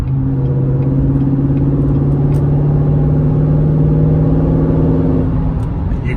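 A C7 Corvette Stingray V8 fitted with an Injen cold air intake drones loud and close with a deep, steady low tone, exhaust in tour mode, easing off near the end.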